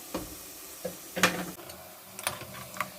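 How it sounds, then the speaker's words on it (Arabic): Potatoes frying in hot oil in a pot, with a few scattered stirring scrapes and soft sizzling crackles, close and fairly quiet with no talk. "البطاطا نقليوها كما قلت لكم زاده في وسط زيت سخون. نصبوا شويه ونحركوها حتى لوين تتقلي بالباهي"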